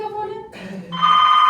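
A telephone rings on a live theatre stage during a Hindi play, giving a short electronic bell tone that shifts pitch partway through, loud and close.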